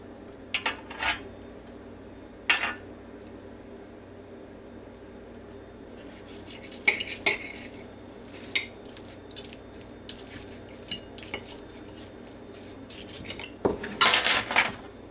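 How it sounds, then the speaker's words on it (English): Cooked asparagus topped with cheese is moved into a dish with a utensil. Scattered clinks and scrapes of cutlery against the dish come in short bursts, with a busier cluster near the end and no talking. "we're just going to take it and put it in a dish for us to have later"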